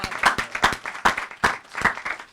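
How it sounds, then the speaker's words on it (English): A meeting audience at the City of New York Veteran Advisory Board applauds Nicole Branca, with a small room of distinct, uneven hand claps close by, irregular and bursty, with no voices over them. "Let us all give you a round of applause."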